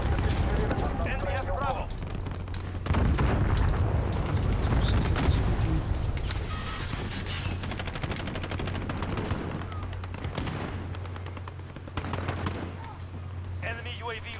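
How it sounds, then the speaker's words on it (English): Cruise missile strikes in a video game roar as dense, rumbling explosions mixed with heavy gunfire, loud and sustained throughout, with voices talking and game announcer callouts over the din. "Enemy cruise missile."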